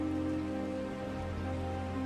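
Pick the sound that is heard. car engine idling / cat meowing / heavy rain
heavy rain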